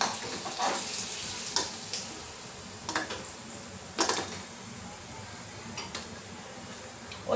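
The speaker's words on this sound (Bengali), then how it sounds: "এক এক করে পনিরগুলো ভেজে নিচ্ছি।" Paneer pieces fry in hot oil with a quiet, steady sizzle, broken by a few sharp taps and clinks of a spatula against the pan.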